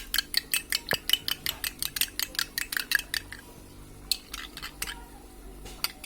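A utensil beats a mixture seasoned with salt and black pepper in a bowl for spinach soup, making a quick run of sharp rhythmic clinks that stops, then resumes more irregularly, close by with no speech.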